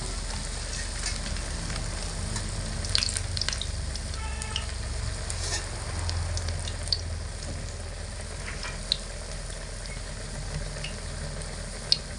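Green banana chops fry in hot oil with a loud, continuous close sizzle and bubbling, a few utensil scrapes and taps along the way, and no voices.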